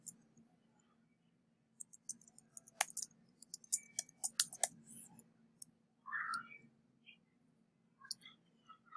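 Faint, irregular clicks of someone typing on a computer keyboard in a quiet room, clustered in short runs of keystrokes with soft pauses between them.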